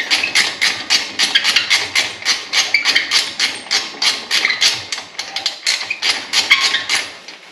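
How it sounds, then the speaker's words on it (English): A 3/8 ratchet backing out brake bolts on an Audi Q7: a steady, rapid series of close, sharp metallic clicks in even bursts, continuing throughout with no talk. "we're gonna put it back on our 3/8 socket, our 3/8 ratchet, and just get these babies backed out"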